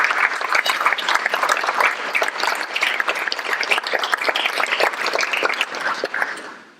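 Steady, full round of applause from an audience at a golf award ceremony, dense clapping sustained for several seconds before tapering off.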